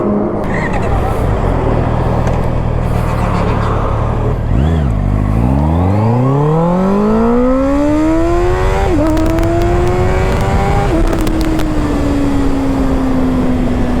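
A Honda CBR 650R motorcycle fitted with a piggyback ECU accelerates hard on a main road, its engine note climbing steeply and loud through two quick upshifts.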